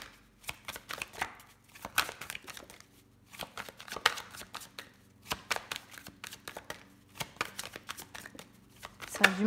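Tarot cards are handled, shuffled and laid out on a table, giving a steady run of close, crisp flicks and soft slaps in irregular bursts with brief pauses between them.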